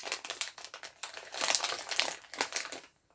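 A plastic packet of vegan heart-shaped gummy candies is torn open and handled, giving a run of close, sharp crinkles and crumples that rise in the middle and fade at the end.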